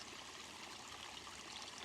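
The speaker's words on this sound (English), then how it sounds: "Fresh, structured, moving water." Water flows steadily at a natural spring outdoors, a soft continuous rushing and trickling wash, faint and even throughout with no voices.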